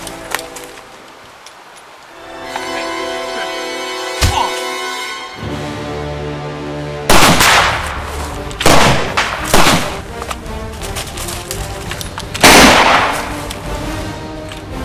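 Gunfire from a stealth-focused video game, with several loud sharp shots and bursts standing out over a continuous musical soundtrack and game ambience, no talk.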